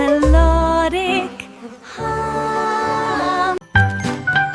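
Buzzing bees are imitated within a gentle, melodic French children's song, a steady sung hum carried over music with tinkling chime-like tones throughout.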